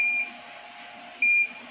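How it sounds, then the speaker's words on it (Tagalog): Two short, high electronic beeps from a buzzer in a simple LED circuit, one at the start and one after a pause of about a second, over a steady faint hum. "gumagana naman ang ating LED at buzzer."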